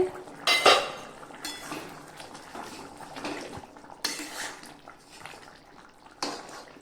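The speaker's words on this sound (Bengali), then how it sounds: "ঢাকাটা খুলে নিই।" A lid lifts off a pot of simmering meat and potato curry with a metallic clink, followed by a second, softer clatter a few seconds later, over a steady background of bubbling and kitchen noise.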